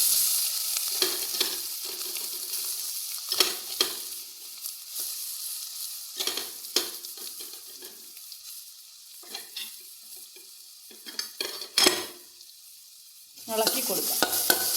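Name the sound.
stirring coconut and beans frying in a pan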